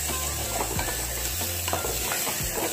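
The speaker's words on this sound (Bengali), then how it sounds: "যে ডালিয়াটাকে আমি হালকা করে ভেজে নেব" Broken wheat (daliya) frying and being stirred in ghee inside a pressure cooker, a steady close sizzle with scraping stir strokes at irregular intervals, no voices.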